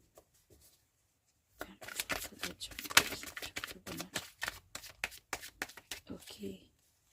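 Tarot cards being shuffled by hand, a burst of rapid riffling and slapping card sounds over several seconds, close and moderately loud, after a near-silent start.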